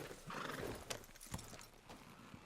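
A horse in the Red Dead Redemption 2 video game clip-clops along with steady hoofbeats and lets out a whinny, close and clear with no talking.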